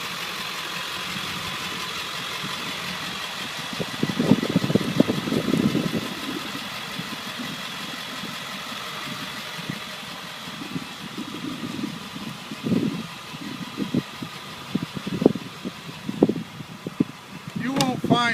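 A 2000 Ford F250 with a 7.3L turbo diesel engine idles with a steady, low knocking rumble and fan whir, while someone talks over it intermittently.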